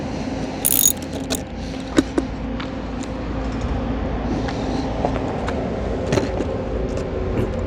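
Ratcheting clicks come from a wrench tightening a rethreaded bolt on a skateboard truck. They sound close and steady over a low hum, with a few sharper knocks in between.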